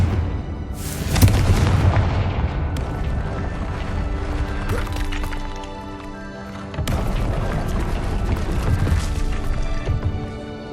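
A Confringo blasting curse detonates in Hogwarts Legacy with a loud crashing boom. Rumbling debris follows, then a second heavy burst hits later. A dense, sustained roar runs under a tonal game score.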